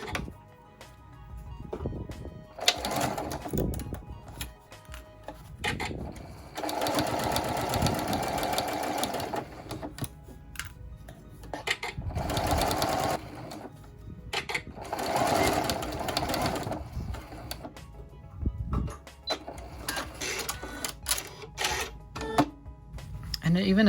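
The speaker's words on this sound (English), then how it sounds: "And now we're going to sew a 1/4 inch seam allowance along this edge." A sewing machine runs a straight stitch along a quarter-inch seam for a French seam finish, its rapid mechanical whirring coming in several bursts of a few seconds each, close and clear, with occasional speech in between.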